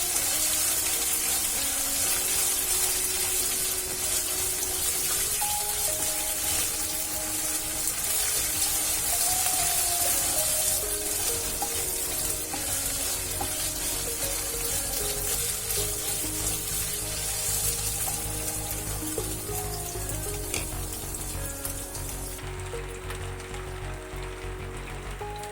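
Ginger garlic paste sizzles and fries in a pan while cooking paneer butter masala, a steady dense crackling hiss that runs unbroken throughout, close and fairly loud with no talking.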